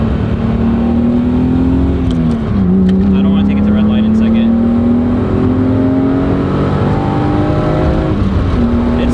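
A BMW E36 M3 engine fitted with an aFe aftermarket intake roars loudly and close, its pitch climbing steadily through gears with a brief dip at a shift, under a constant drone of road noise.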